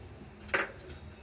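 A single metal spoon clinks once against a pot while chicken roast is mixed with curry leaves and fennel powder, a brief close knock over a quiet background.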